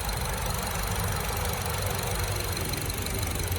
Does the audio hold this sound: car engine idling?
yes